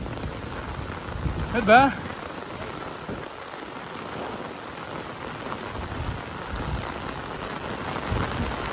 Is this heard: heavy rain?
yes